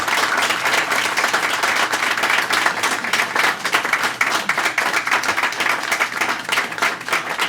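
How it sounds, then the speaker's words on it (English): An audience at a NYCHA board meeting gives sustained applause, a dense, continuous patter of many hands clapping that stays loud and even throughout. "Let's give a round of applause for Chief James Secreto."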